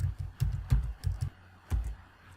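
Computer keyboard typing in bursts of quick clicks, several keystroke clusters with a brief pause, close and moderately quiet, no talk.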